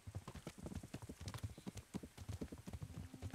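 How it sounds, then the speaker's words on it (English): Horse hooves galloping in the video game Kingdom Come Deliverance, a fast, steady rhythmic clip-clop of several beats per second, fairly faint and continuous, with no talk over it. "they've got faster horses, that's why then when they are like galloping or whatever that's called"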